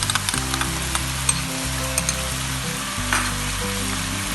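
Chicken and mixed vegetables sautéing in a hot pan for chicken cheese shawarma, a steady close sizzle with a low rumbling hum underneath and small scraping clicks from stirring throughout.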